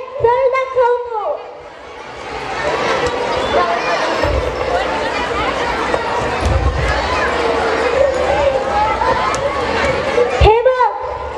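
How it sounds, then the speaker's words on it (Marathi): Crowd and traffic noise at a rally, staged in a school play about air pollution: a steady bed of chatter and bustle with low rumbling thumps, with voices speaking and a voice over it. "काय गाड्या, काय ट्रॅफिक, काय गर्दी."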